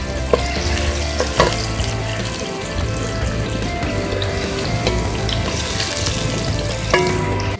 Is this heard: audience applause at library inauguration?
no